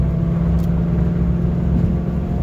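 A Ford Mustang engine and exhaust while driving, heard from inside the car as a loud, steady low rumble with constant drone and no talk.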